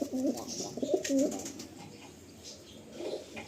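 Pigeons in a loft for sale give a few soft, low coos close by in the first second and a half, then fainter cooing over a quiet, faintly hissy background.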